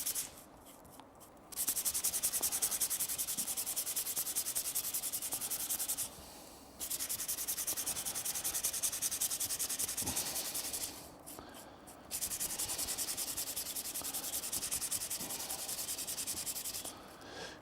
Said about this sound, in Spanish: coger una lámina de hierro que se lija para quitar el óxido que pueda haber en la superficie